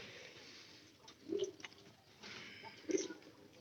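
Pigeons coo softly in the sun, two short low coos separated by a pause, set against a quiet outdoor background with no voices.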